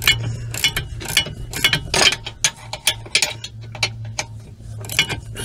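Ratchet fitted with an 18mm socket undoing the bolts on a front suspension lower arm of a Vauxhall Astra G Mk4, giving bursts of quick metallic clicks in an irregular rhythm, close and fairly loud.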